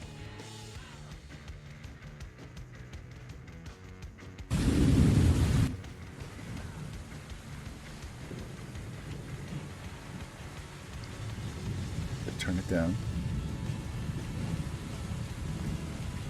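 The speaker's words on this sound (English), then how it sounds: "I'm going to bring up the rain stuff in the background." Rain and thunder ambience in an Arkansas Razorbacks versus Mizzou national championship football video game: a steady patter of rain with a loud thunder crash partway through, one short spoken line and a few faint game sounds.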